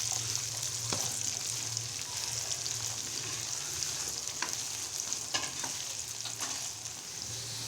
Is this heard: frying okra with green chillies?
yes